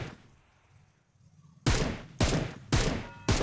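Single-tap shots from a Beryl rifle in the game BGMI: after a quiet stretch, four loud, sharp reports ring out at roughly half-second intervals, each with a short echoing tail.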